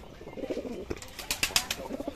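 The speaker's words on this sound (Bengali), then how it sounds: "এই দেখুন সিরাজি কবুতর মারামারি করতেছে" Sirazi pigeons scuffle in a loft, giving low throaty coos broken by sharp bursts of wing flapping at close range, with several quick flaps clustering toward the end.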